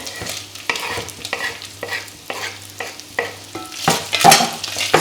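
Chopped onion frying with bacon in a pan, heard as loud rhythmic stirring scrapes over a steady sizzle, the strokes coming about every half second and growing stronger toward the end.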